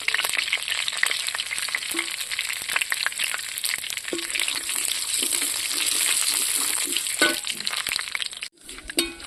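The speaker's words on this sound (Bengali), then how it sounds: "এখানে দুটো চিংড়ি লঙ্কা ফোড়নে, দুটো তেজপাতা, দুটো গরম মশলা আর কালো জিরে।" Prawns, bay leaves, garam masala and nigella seeds tempering in hot oil, a crackling sizzle with scattered pops and stirring clicks, fading out briefly near the end.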